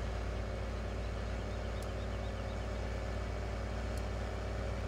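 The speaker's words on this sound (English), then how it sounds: "This uh, track tractor's kind of loud." A tractor engine in the Farming Simulator 17 video game, Oregon Springs map, drones loudly and steadily through the whole stretch with no change in rhythm and no voices.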